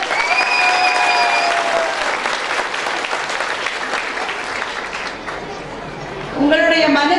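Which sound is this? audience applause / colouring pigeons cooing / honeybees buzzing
audience applause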